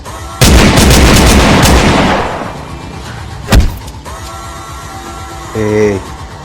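Gunfire in a Kannada action film scene: a loud, sustained burst of shots opens the scene and tails off, followed by a single sharp shot, with quieter background sound and a brief tonal effect near the end.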